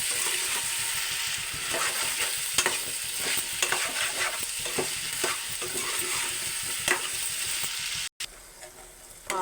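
Vegetables with salt and turmeric stirred in a hot pan for a drumstick, egg and potato curry, a close, steady sizzle broken by repeated scraping stirs, ending with a brief cut and a clatter.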